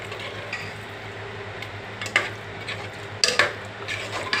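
Fried eggs and tomato curry sizzle quietly in a pan under a steady low hum, broken by a few sharp scrapes and clinks of a spoon stirring against the metal.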